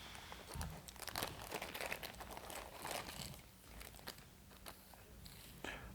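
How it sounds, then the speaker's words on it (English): A plastic parts baggie for an MRA X-Creen Sport motorcycle windshield extension is opened and handled, giving close, busy crinkling and tearing rustles that keep going in irregular bursts throughout. "So if we open up this first baggie with parts 1 through 5"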